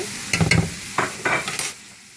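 Shrimp scampi in a frying pan is stirred with a utensil, giving a few quick scraping and clinking strokes over a soft sizzle, close and fairly loud.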